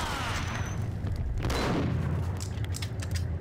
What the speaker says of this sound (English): Bro, that is so many bullets.